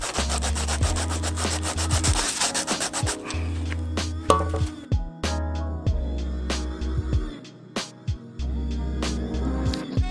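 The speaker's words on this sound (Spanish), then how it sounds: "Las voy a lijar para que la pintura se adhiera bien." End caps are sanded by hand before painting, a loud close rasping scrub in regular back-and-forth strokes over a steady musical backing, with no talk.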